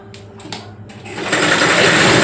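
A sewing machine stitches the joined pieces of a waistband, running in short bursts at first and then settling into a loud, steady whir close by, with no voices.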